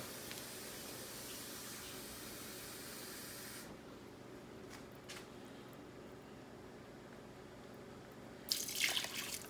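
Tap water runs steadily into a cup while cooking chicken and rice, a continuous hissing pour close by, then the flow stops to near quiet with faint clinks before a brief splash at the end.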